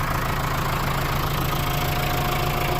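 A small tractor's engine idles steadily and close by, a constant low rumble with a faint hum running through it, no voices over it.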